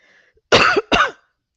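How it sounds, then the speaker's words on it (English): Two sharp, close coughs in quick succession from a single person, loud and clear after a brief near-silent pause, with no talk around them. "Excuse me, I had to cough."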